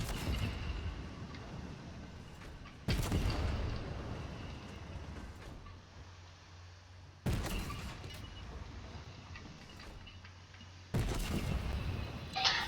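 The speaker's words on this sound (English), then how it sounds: "all I'm doing is sitting here with a tank and blowing stuff up" A tank firing and blowing things up in Fortnite: three heavy booming blasts spaced several seconds apart, each followed by a rumbling decay under steady background noise.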